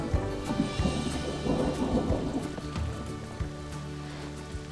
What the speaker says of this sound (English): as I'm sure you can tell, the rain is upon us